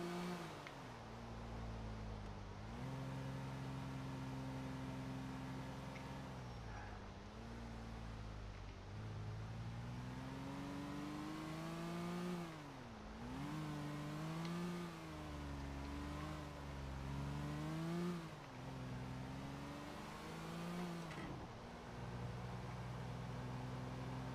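Moskvich 407 car driving in Grand Theft Auto IV, its mid-pitched engine droning steadily with repeated rises and falls in revs as it accelerates and shifts, continuous and fairly close throughout.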